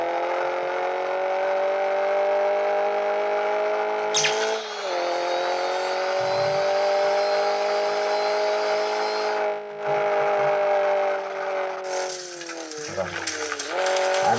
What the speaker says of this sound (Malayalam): കാറിൻ്റെ സൗണ്ട് അത്രയും കൂടുതൽ.